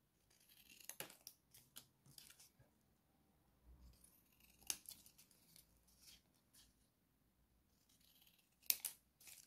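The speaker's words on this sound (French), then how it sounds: "c'est un petit peu dur à couper puisque c'est encore très humide." Scissors snip through damp, heavily glued paper scraps in a few quiet, separate bursts of crisp cutting, close by, with soft handling noise between them.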